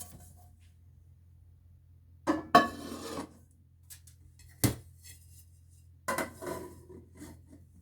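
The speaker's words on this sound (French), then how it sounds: "J'enlève la marmite pour voir si je n'empêche pas quelque chose." A cooking pot lifted off and handled, giving a few separate metallic clanks and scrapes spaced over several seconds against a low steady hum, close and otherwise quiet.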